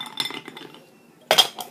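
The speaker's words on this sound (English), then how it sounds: "Throw a few ice cubes in" Ice cubes clink and rattle into a glass while a gin drink is being mixed, a quick run of light knocks followed by a louder bright clatter, close and dry.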